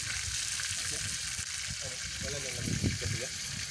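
Food fries over an outdoor cooking fire with a steady, faint sizzle, while a quiet voice murmurs in the background and a few louder crackles rise near the end.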